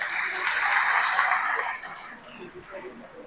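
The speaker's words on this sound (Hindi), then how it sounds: "इनके लिए जोरदार तालियां बनती है" Audience applause at a public stage gathering, a loud burst of clapping that dies away after about two seconds, leaving talking and a few scattered sounds.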